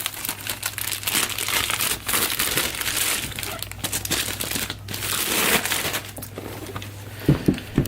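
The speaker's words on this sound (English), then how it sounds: "There's the plastic wrap off of Corsair Leader." Plastic shrink wrap is peeled and crumpled off a Corsair Leader box in a steady crinkling, crackling stream, close and fairly loud, with a few sharper snaps near the end.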